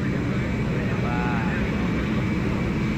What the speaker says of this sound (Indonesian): pesawat kenegaraan yang akan lepas landas sesaat lagi dari Lanut Halim Perdana Kusuma